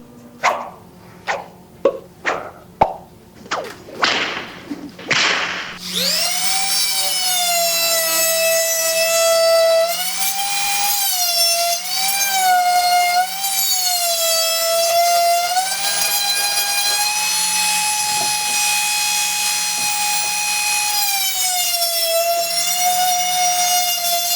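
Several sharp taps and bumps, then a loud, steady high-pitched whine of a power tool cutting metal with a cutting disc for a Pelton wheel, shifting pitch slightly as it cuts, close and sustained.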